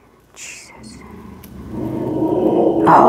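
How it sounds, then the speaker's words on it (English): A dog in a house growls and barks in short bursts that build toward a loud final bark, with a little talking in the background. "You hear the doggy of the house?"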